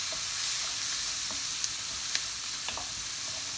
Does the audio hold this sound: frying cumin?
yes